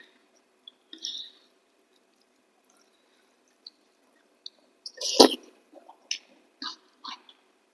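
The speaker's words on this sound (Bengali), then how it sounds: "একটু কাঁচা লঙ্কা মাখি।" Rice mixed by hand with green chili and meat gravy makes faint, sparse wet squishes and soft sticky clicks, with one louder squelch midway, in an otherwise quiet room.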